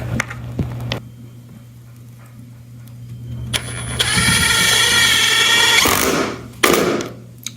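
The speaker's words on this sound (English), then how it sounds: "So right now I'm going to screw the floor down." Cordless power drill driving screws into a bathroom subfloor during a renovation, with a few short bursts early and then a long, loud whirring run followed by another brief burst, close by with no talking.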